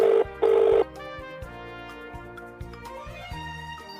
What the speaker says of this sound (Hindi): फोन आ गया है। कौन है?